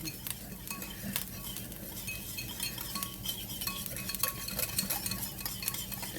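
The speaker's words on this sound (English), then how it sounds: "Again, give it a mix. Whisky whisk." Whisk clinking against a bowl as a mixture is beaten during home meal-kit cooking, a quiet, quick, uneven run of light metallic taps and scrapes with no talking.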